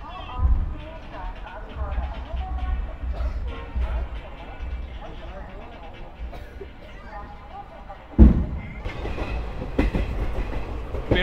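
The Paharia Express passenger train, an ICF coach rake, rumbles along the rails with rhythmic clickety-clack and low rolling noise, punctuated by a louder jolt near the end, while someone talks over it.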